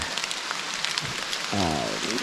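Rain falls in a steady, soft patter around an off-grid Northwoods cabin in fall, with a brief voice-like tone rising near the end.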